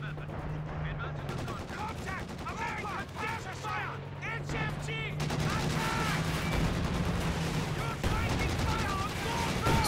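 Machine-gun fire rattles in rapid bursts through a Company of Heroes 4v4 battle on Hill 400 against Siegfried Line fortifications, with a steady low hum and someone talking over the shooting.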